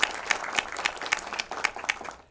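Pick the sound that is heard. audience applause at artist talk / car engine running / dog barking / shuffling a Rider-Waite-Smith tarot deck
audience applause at artist talk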